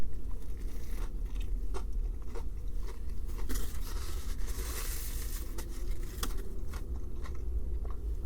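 Crisp crunching bites into a breaded fish burger, the Burger King King Fish, with repeated sharp crackles and chewing close to the microphone, no talking.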